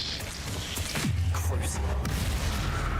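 A Bombarda blasting spell explodes in Hogwarts Legacy: one heavy boom lands near the middle and trails into a low, sinking rumble over steady background game noise.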